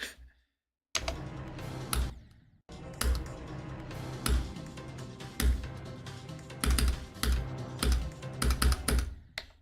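Fast bursts of keyboard typing from a gaming stream, played in dense clicking runs with a couple of short pauses, close and fairly loud, with no talking.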